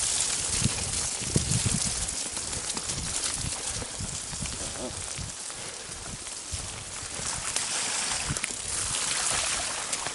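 Rushing stream water after a storm near Lambre, a dense continuous splashing roar up close, with wind noise and occasional voices underneath.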